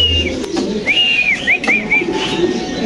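Pigeons at a pigeon farm give several clear, rising-and-falling whistled calls in quick succession, close by, over a steady murmur of background noise.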